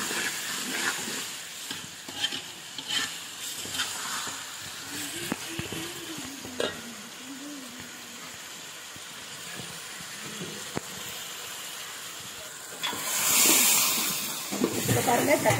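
Tomatoes sautéing in a pan for anchovy fish kuzhambu, a steady soft sizzle and hiss with occasional stirring scrapes, rising to a louder burst of sizzling near the end, while a voice talks over it.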